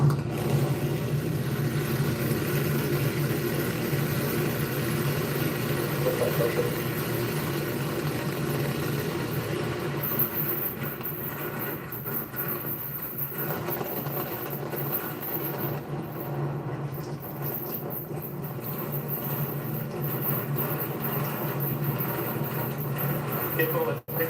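A SpaceX Starship launch with 33 Raptor engines firing produces a steady, dense roar with no breaks over the whole stretch, heard from a distance, with a commentator's voice running beneath it.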